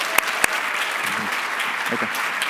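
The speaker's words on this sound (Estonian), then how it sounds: "Ja teeme ühe aplausi veel." Audience applause at a teacher-training day session, a continuous wash of many hands clapping with a couple of sharp louder claps near the start and brief low murmurs of voices underneath.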